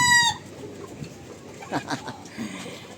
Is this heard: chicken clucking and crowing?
yes